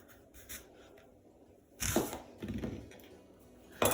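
A knife cutting an apple in half, a short crisp crunching slice with a couple of fainter handling taps before it, close and quiet.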